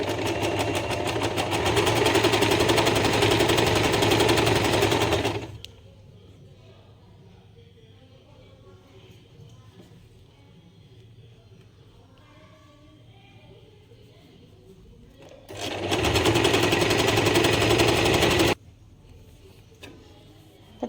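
An Usha Janome DLX sewing machine stitches along a folded fabric edge under its presser foot. A loud, steady motor whir runs for about five seconds, goes quiet for a long stretch, then returns in a shorter burst.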